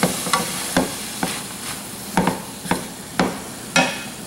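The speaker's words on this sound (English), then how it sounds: "So I'm just going to go ahead and add this little package of sausage." Sausage pieces and hamburger meat are stirred in a frying pan, with a spoon scraping and tapping in a steady series of close, crisp strokes over a soft sizzle.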